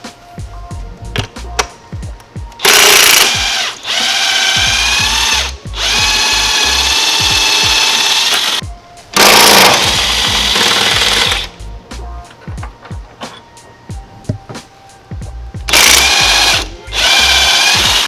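A power tool zips out the two upper torque mount bolts on a 2022 Honda Accord Sport, loud rattling bursts of several seconds each separated by short pauses and clicks, close by.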